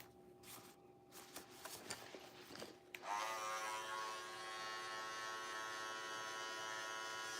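Electric hair clippers switch on and buzz steadily and close after a few seconds of soft handling noises.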